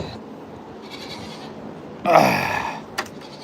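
A single goat lets out a short, rough bleat over steady outdoor background noise, followed by a brief click.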